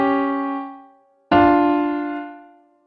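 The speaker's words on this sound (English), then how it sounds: "this creates an interval of a diminished fifth that resolves to a minor 3rd" Two sustained harmonic tones, a diminished fifth interval held and fading, then after a short gap resolving to a minor third, each struck cleanly and left to decay alone with no talking.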